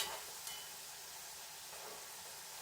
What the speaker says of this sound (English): now I'm frying them